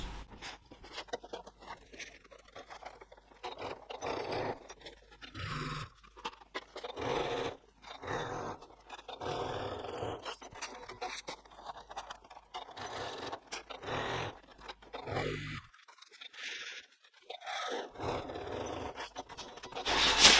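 Home sewing machine stitching the side seams of a zippered tote bag at a 1 cm seam allowance, running in steady bursts with short stops and a longer pause near the end, close and moderately loud.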